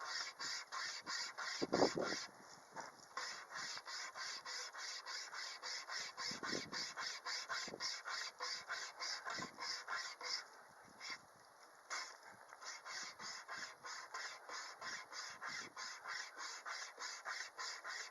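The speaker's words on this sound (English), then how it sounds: "It's actually sawing, although it does jam up a bit, but I am cutting at a thicker piece and on a knot as well." Small folding saw from a 29-in-1 emergency rescue kit cutting through a thick, knotty piece of wood, a steady rapid rasping of back-and-forth strokes with a few brief catches where the blade jams, close and continuous.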